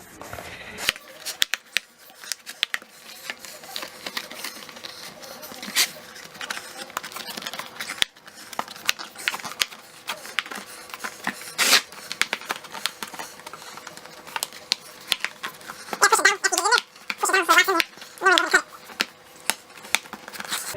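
A door draft stopper gets cut to length with a series of sharp, close snips and crunches, irregular and scattered across the span, with rustling handling noises between the cuts.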